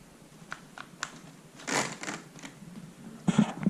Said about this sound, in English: It even kind of sounds like a typewriter.